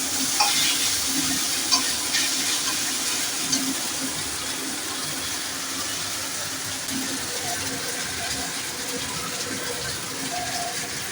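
Food being stirred in a hot frying pan after salt is added, with continuous sizzling and soft scraping throughout, a few light clinks standing out early on.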